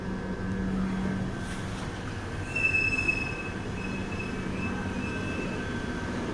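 A London Underground Piccadilly line train runs between Acton Town and Turnham Green, a loud steady rumble of wheels on track with a drawn-out metallic squeal rising midway, heard alone.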